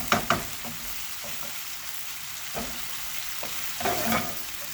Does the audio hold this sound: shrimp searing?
yes